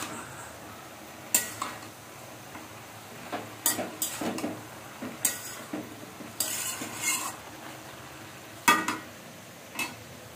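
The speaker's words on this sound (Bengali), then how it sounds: "মাছের ঝোলটা ফুটে উঠেছে" Fish curry broth in a pan bubbles with scattered clinks and scrapes of a ladle against metal, a steady hiss underneath, close and moderately quiet, with no talk.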